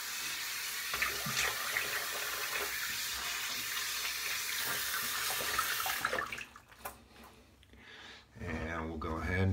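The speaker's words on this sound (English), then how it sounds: "I'll go ahead and rinse off," Tap water runs steadily and loudly for about six seconds as a man rinses off after a shave with a Gem Jr SE safety razor, then stops, leaving clinks and a short burst of speech near the end.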